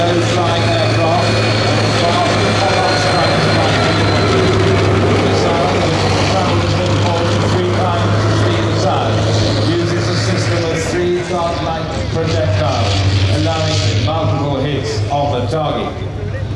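A Stormer armoured fighting vehicle carrying HVM missiles idles at a British Army armoured display, its engine a steady low drone throughout under continuous narration from a man.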